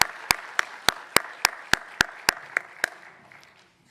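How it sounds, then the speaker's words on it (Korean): A church congregation at a graduation service for an intercessory prayer school claps in a slow, even rhythm, a dozen distinct sharp claps that gradually soften and fade out. "우리 다시 한번 박수로 축복해 주시기 바랍니다."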